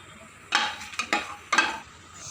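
Cinnamon sticks, star anise, marathi moggu, bay leaves and cloves stirred in hot ghee in a pot for coconut milk rice, producing a few quick sizzling bursts with scraping stirs between quiet moments.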